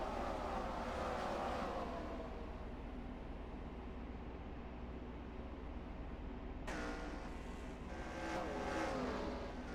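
Race cars roaring down the back straightaway at Bristol Motor Speedway, a steady dense engine drone with a fresh wave of cars sweeping past loudly near the end.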